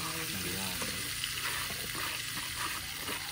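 Chopped garlic sizzles and fries in a hot pan, the first step of a big pot of sopas cooked for a feeding program, a steady close crackle with faint stirring and no voices.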